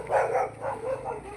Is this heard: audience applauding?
no